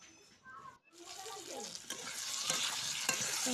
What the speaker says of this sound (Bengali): তো মাছগুলো ভেজে নেবো